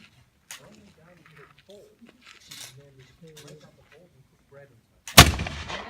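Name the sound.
musket fire during a historical reenactment demonstration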